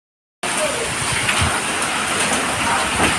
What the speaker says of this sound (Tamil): பயங்கரமான மழை.